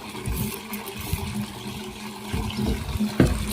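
Running water from a rig pours steadily into a farm water tank with a gurgling, splashing rush and a low engine-like hum beneath, close and continuous.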